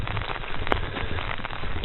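Heavy rain falls in a dense, steady hiss of drops drumming on a surface, close and continuous, with one brief sharper tap partway through.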